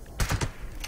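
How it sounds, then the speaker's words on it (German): A few sharp percussive bursts in quick succession, gunfire in the video game Fallout 76, then a quiet background hum. "das war ein Schuss"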